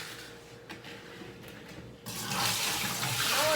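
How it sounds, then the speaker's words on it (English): Very cold brine water is poured out of a turkey container, starting with faint drips and trickles, then turning into a steady, loud gushing splash that continues to the end. "I'm going to pour this water out."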